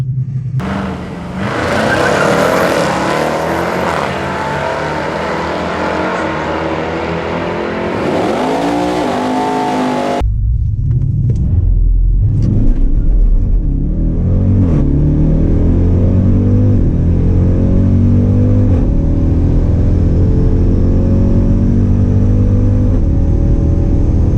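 A 2018 Jeep Grand Cherokee Trackhawk makes a quarter-mile drag run: a loud, continuous engine roar climbs through the revs, shifts gear partway, then keeps pulling hard with a heavy rumbling drone.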